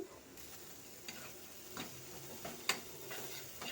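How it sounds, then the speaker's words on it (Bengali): Onion and spice masala with bitter gourd sautéing in a pan, with a quiet steady sizzle and a few scraping stirs and light clinks of a spoon, no voices. "দেখুন আমি কিন্তু সুন্দর করে কষিয়ে নিচ্ছি"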